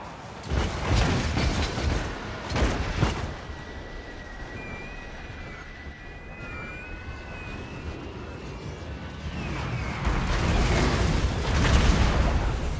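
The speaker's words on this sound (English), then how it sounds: "Mortars are firing now automatically." Mortars firing in the video game Total War: Warhammer II: deep booming thuds over a dense rumbling battle din, with a thin whistling tone drifting through the middle.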